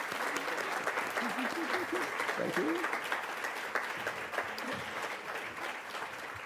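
An audience at a Star Talks event in the Appel Salon gives someone steady, sustained applause from a full room, with a brief spoken thanks and murmurs rising partway through before the clapping tapers slightly.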